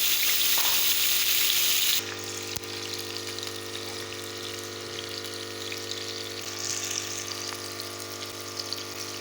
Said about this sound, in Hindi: घी को मैंने गरम कर लिया है। अब मैं इसमें ये आलू डालूंगी।